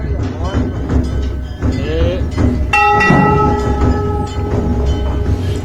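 Monkeys take turns ringing a temple bell during aarti, the clanging strikes ringing out over a crowded, noisy background with people talking.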